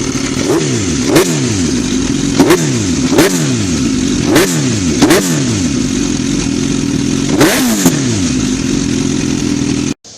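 Loud, close 2006 Suzuki GSX-R1000 fitted with a Yoshimura exhaust, holding a steady idle broken by a series of sharp throttle blips that rise and fall about every second or so, ending abruptly.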